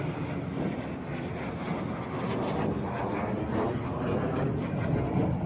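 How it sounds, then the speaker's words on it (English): Airplanes flying low overhead above a building with a big white roof, making a loud, continuous broadband engine roar that stays steady throughout. "So the reason those crazy planes come over, we think, is because of the big white roof"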